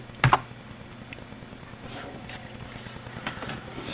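Keyboard typing in a quiet room as a terminal command is entered on a Raspberry Pi 4 setup: a loud click near the start, then a run of faint, irregular keystrokes.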